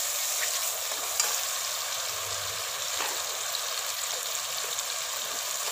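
Garlic ginger paste fries in spices for chicken karahi, giving a constant, even sizzle with a couple of faint spoon taps and no voices.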